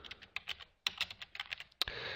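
Quick, light keystrokes on a computer keyboard patter close by in an irregular run, with a longer, heavier key press near the end; no voices.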